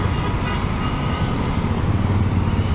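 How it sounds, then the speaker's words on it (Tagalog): Heavy traffic crowding the EDSA Galleria flyover during a rally, a steady dense rumble of engines with a continuous broadband road roar, even in loudness and without clear pauses. "Traffic na oh."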